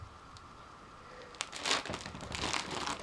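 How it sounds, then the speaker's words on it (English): Light crinkling and rustling, like handling a plastic bag up close, growing busier in the second half. "Sorry for rustling."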